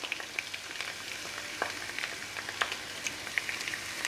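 Green peppers frying in oil in a pan, a steady crackling sizzle with scattered sharp pops and spits, close and even throughout, with no talking.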